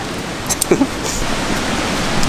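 A rushing waterfall in the Brecon Beacons, Wales, roars as a steady broad wash of water noise, with a brief voice and a few short knocks over it near the start.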